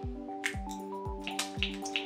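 Liquid makeup is squeezed from a pump bottle in a quick series of soft wet squishes and drips, about four evenly spaced pumps, close and quiet, with no talking.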